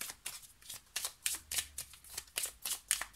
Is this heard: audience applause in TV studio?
no